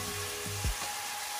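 Seasoned squid sizzles steadily in a hot pan, a soft even frying hiss broken by one brief clatter.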